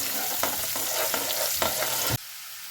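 Garlic and ginger fry in a pan for paneer bhurji, a loud close sizzle broken by regular scraping stirs, which cuts off abruptly near the end, leaving quieter background noise.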